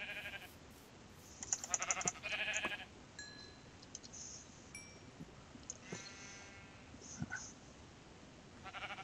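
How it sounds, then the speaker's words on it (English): Sheep in the Minecraft video game bleat several times in short, nasal bursts, close and clear, mixed with game clicks and brief pops in a quiet scene. "And finally, we have found some sheep."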